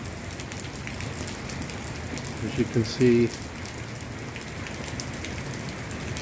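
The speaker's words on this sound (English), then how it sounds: "It's just been raining on and off" Steady rain from Typhoon Odette patters continuously on surfaces outdoors, a dense even hiss throughout, with someone briefly speaking over it partway through.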